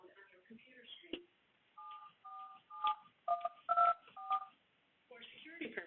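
Telephone keypad DTMF tones entering an authentication code during an automated phone call, a series of short evenly spaced beeps between bits of a recorded voice prompt.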